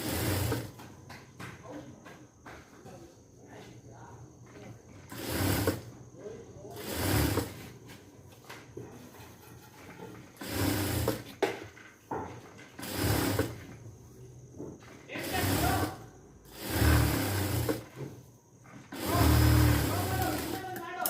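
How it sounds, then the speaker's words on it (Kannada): A sewing machine stitches down both sides of a sleeve, running in repeated short loud mechanical bursts with quieter pauses between them. "ಇವಾಗ ಅಕ್ಕಪಕ್ಕ ಎಲ್ಲನೂ ಸ್ಟಿಚ್ ಹಾಕೊಳ್ಳೋಣ"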